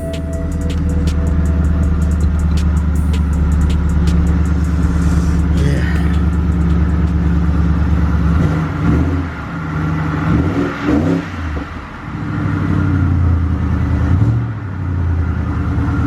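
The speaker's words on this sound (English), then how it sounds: "Let's let y'all hear this cold start." A car's engine cold-starts on a snowy day, settling into a loud, steady close idle with revving swells and rumbling surges that carry through to the end.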